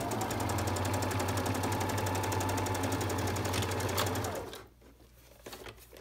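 A sewing machine stitches steadily over the elastic on a fabric scrub cap, its fast, even needle rhythm running loud and close for about four seconds before stopping abruptly.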